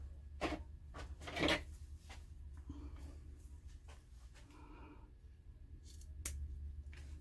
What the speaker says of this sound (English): and my scissors. I'm just going to cut a little bit of this off.